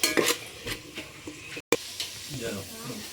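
Tomatoes cooking in a pan while being stirred, with a soft sizzle and scraping, clinking utensil strokes against the pan in irregular bursts, close and moderately loud.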